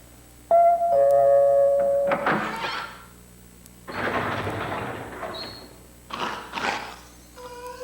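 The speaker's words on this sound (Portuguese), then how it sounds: "uma versão do Senta que Lá Vem História muito rara, que quase nunca era exibida, que continha esse efeito de campainha ao invés, né, das batidas da porta" A chiming doorbell sound effect from a Brazilian children's TV show rings out as tonal chimes at the start, followed by louder rumbling and thumping noises and further short chimes later on.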